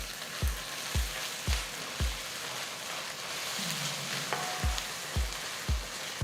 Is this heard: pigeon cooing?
no